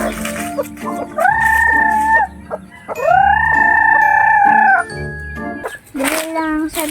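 Chickens call loudly and close by, with long drawn-out crowing and squawking cries in several bursts, and clucks between them.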